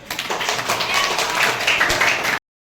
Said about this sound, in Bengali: তাই আমরা প্রত্যেকের জন্য সকলে একবার করতালি দেব।